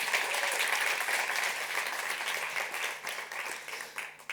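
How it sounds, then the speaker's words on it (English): An audience at an IDFA 2022 industry talk on film claps loudly and continuously, a dense, even wash of applause that starts to thin out near the end. "Can we have a big round of applause for Eve?"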